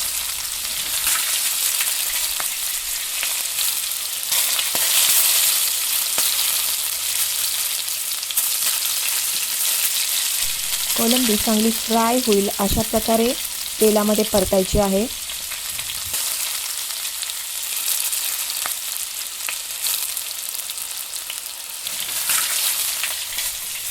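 Prawns sauté in hot oil with spices for a prawn masala curry, giving a steady, close sizzle throughout, with a brief tonal squeal in the middle and no talk.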